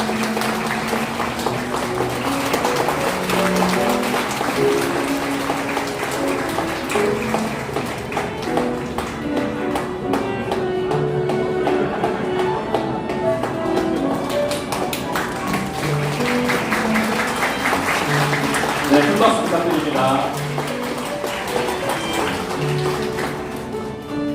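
Guests at a wedding ceremony applaud while the couple bow to their parents, continuous clapping blended with music playing throughout the hall.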